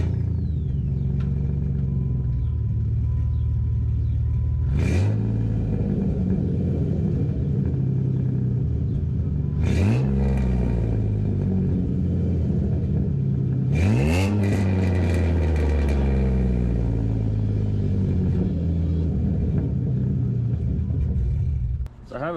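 A 2007 Jeep Wrangler's exhaust, raw and raspy, revs to about 2,500 RPM in three loud bursts over a steady, deep idle rumble, each one climbing and falling back.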